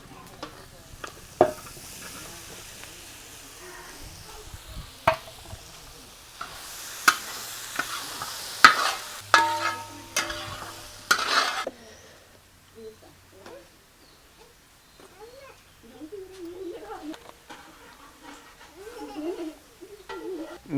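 Sliced onions sauté in a pan for a catering-style beef roast, sizzling under repeated spoon scrapes and clinks; the frying fades and a voice talks.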